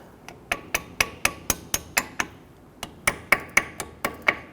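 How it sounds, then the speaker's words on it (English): A hammer taps brake caliper pins out on a Hummer H3 with about fifteen sharp, ringing metallic strikes in an uneven rhythm and one brief pause, loud and close, with no voices. "Now I want to tap these pins out."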